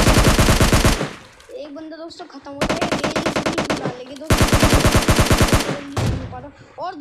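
Automatic gunfire from PUBG Mobile Lite comes in loud, rapid bursts of close shots, three long volleys separated by brief pauses filled with softer game sounds.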